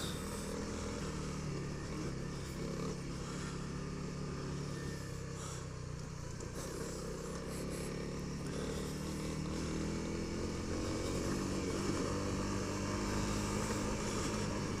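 A Honda CRF300L motorcycle being ridden on a cool day, its engine giving a steady, continuous drone mixed with wind noise and no clear changes in pace, with no voices.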